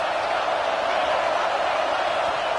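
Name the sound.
stadium crowd cheering at a football game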